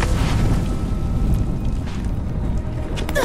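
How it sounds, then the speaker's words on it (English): A big explosion in the Dead Island 2 zombie game gives a heavy, low rumbling blast that roars steadily for a few seconds, loud and dense without any voices. "Oh no, big explosion."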